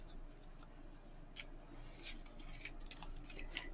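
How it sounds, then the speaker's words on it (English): Scissors fussy cut paper ephemera in a quiet room, a handful of soft, crisp snips spaced irregularly over a faint low hum, close and gentle. "I sit and fussy cut."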